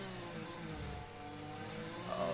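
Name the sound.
race car engine from a video game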